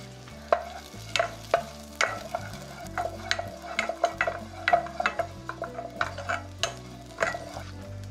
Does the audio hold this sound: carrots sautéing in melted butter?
yes